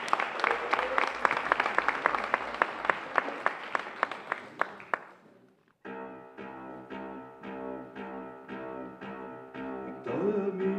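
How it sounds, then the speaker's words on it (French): Audience applause for a male singer, Pierre, at a regional French chanson contest in Torcé-en-Vallée. Dense clapping gives way after about six seconds to a piano-like musical introduction. "Sous vos applaudissements, s'il vous plaît, Pierre."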